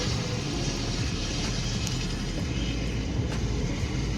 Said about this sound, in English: It's so funny seeing a helicopter taxiing.